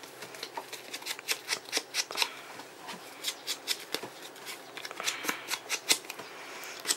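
A sponge dabs ink onto the edge of a paper card in a quick series of soft, papery pats and scuffs, close and fairly loud, in irregular bursts with brief pauses between runs.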